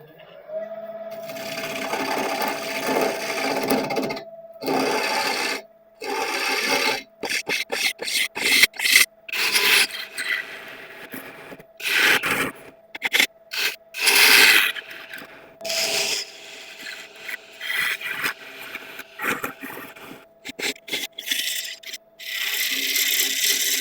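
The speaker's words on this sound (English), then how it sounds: "I'm just going to quickly go and sharpen up again" Steady rasping strokes of a woodturning tool being sharpened, a broken run of close, rhythmic grinding passes with short pauses between bursts, over a faint constant hum.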